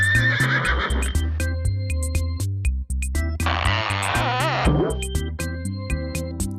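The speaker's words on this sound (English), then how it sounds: "Horse." A horse neighs in a long, loud whinny over a bouncy synthesized music track with steady percussive beats, followed by a second rising, wavering neigh.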